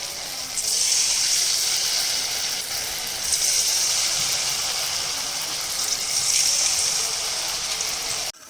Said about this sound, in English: Now the oil is hot in the pan and it's time to deep fry the paneer